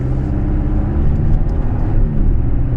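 A 2024 Toyota Tacoma pulls away in Eco mode with a loud, steady engine rumble and road noise heard from inside the cab, no talk.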